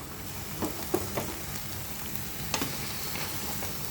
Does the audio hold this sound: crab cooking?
yes